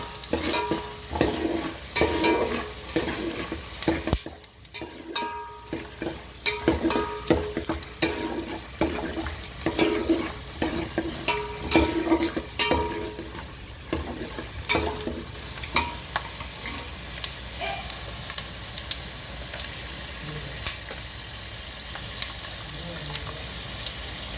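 Urad dal and chana dal being stirred in a hot pan, with steady scraping and stirring strokes over a soft sizzle of frying, close and fairly continuous for the whole stretch.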